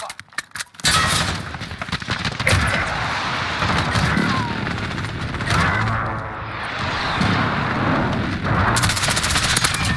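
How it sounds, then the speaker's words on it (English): An enemy precision airstrike and heavy gunfire in a combat video game open with a few sharp shots, then swell into a loud, sustained barrage of machine-gun bursts and booms. "Enemy precision airstrike, take cover."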